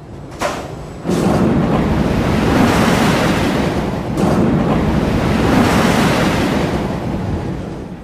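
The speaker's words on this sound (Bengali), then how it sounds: "এত বাতাস আর মানুষের এত চিৎকার নেই, যা বলছি কিছুই শোনা যায় না।" Strong wind roars steadily and loudly past the microphone on an amusement ride, a dense rushing buffet that swells after the first second and never lets up; no distinct screams stand out from the gusting.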